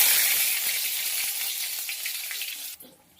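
Nigella seeds and garlic hit hot white cooking oil in a pan, giving a loud, hissing sizzle that eases slightly, then drops off sharply near the end.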